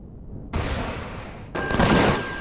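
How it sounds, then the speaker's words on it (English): Rockets firing in the space game Empyrion, two loud whooshing bursts about a second apart, each a sustained rushing roar with a thin tonal whine in the second, alone without talk. "let's go ahead and turn on rockets"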